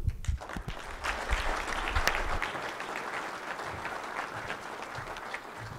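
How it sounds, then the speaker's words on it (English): An audience at a South Dakota agricultural summit trade panel applauds a speaker, a dense sustained round of clapping that holds steady before easing slightly near the end. "Ladies and gentlemen, a round of applause for Dean Gorder."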